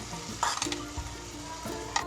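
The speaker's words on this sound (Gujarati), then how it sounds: "હવે આપણે આ બધો જ વઘાર ખમણમાં એડ કરી દઈશું" Hot sugar tempering poured onto Surti khaman sizzles and crackles in short bursts, with light spoon stirring and clinks close by, and no talking.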